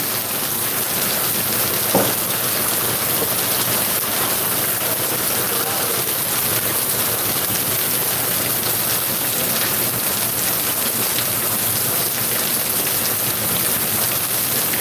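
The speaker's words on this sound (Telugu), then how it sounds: "వర్షం అయితే బాగా పడుతుంది" Dense, steady downpour of heavy rain near Zaheerabad, roaring evenly without a break, loud and close, with a faint brief tap near the start.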